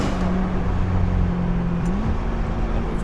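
A 2023 Chevrolet Corvette C8 sports car on the move, heard as a loud, steady engine and road drone from inside, with a brief shift in engine pitch partway through.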